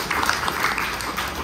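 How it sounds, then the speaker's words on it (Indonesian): Congregation at a Jakarta church worship service applauding, a steady, dense wash of clapping that holds evenly for the whole moment without breaks. "Kasih tepuk tangan."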